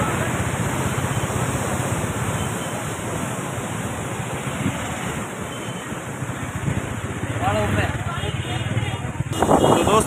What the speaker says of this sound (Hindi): इस तरह से ये पानी पूरा गिर रहा है और ये गिरता हुआ फतेह सागर झील की ओर बढ़ पड़ा है।